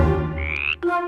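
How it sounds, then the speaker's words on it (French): A small frog croaks in one drawn-out harmonic call that rises in pitch, breaks off, then gives a short second croak, close and clear with no other sounds. "C'est un petit animal, une petite grenouille."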